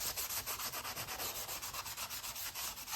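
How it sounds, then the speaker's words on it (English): Rust is rubbed off the chrome of a 1967 Triumph T100C motorcycle in quick, regular back-and-forth scrubbing strokes, fairly quiet and close, with no voices. "a lot of that rust is just coming right off and revealing chrome that is still on there"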